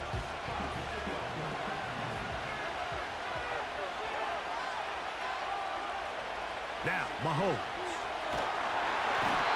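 A roaring stadium crowd in an American football video game swells steadily and grows louder toward the end, with a commentator talking over the noise.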